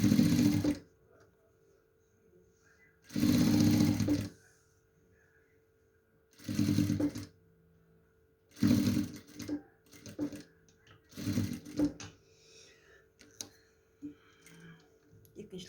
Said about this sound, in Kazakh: Екінші лентамыз тігіп жатырмыз